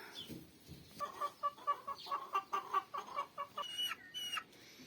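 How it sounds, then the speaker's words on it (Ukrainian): Chickens clucking in a quick run of short, rhythmic calls close by, with a few higher squawks near the end and no voices. "Чоловік випустив вже курчат, загнав сюди в цю загорожку"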